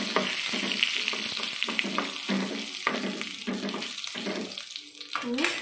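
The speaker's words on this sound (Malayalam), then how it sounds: "ഇപ്പൊ വെളിച്ചെണ്ണയിൽ നമ്മൾ കുറച്ച് കടുക് ഇട്ടു," Mustard seeds and dried red chillies fry in hot coconut oil with a busy, crackling sizzle and irregular pops, joined by a few utensil clinks near the end.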